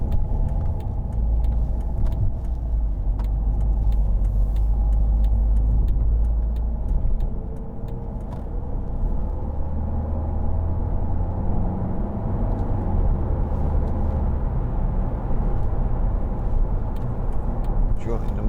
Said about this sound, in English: Joining the motorway here